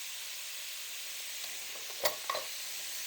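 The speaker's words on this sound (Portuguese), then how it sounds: "Então, vamos lá dourar a nossa carne." Ground meat browning in a pan for empanada filling: a steady broadband sizzle throughout, with a couple of brief scraping stirs near the end and no talking.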